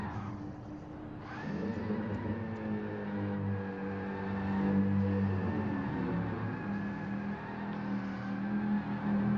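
A race car engine in a racing video game circuit event at Catalunya drones and revs continuously while doing burnouts and donuts, its steady tonal note rising and falling slightly, loud and alone.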